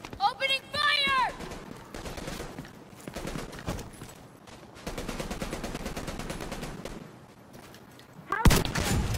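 Video-game gunfire in The Division 2: a dense run of rapid rifle and machine-gun shots with sharp blasts, mid-distance, mixed with shouted voices and ending in a loud crack.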